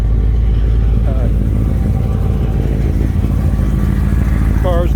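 A car engine built up with a mild competition street cam runs close by with a steady, lumpy low rumble, while someone talks briefly over it.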